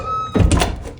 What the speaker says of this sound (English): The door will not shut.